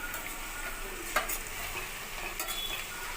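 Cabbage and chana dal curry stirred in a pan, a soft continuous sizzle with the scrape of a spoon and one sharper clink of utensil against metal, close and fairly quiet, no voices.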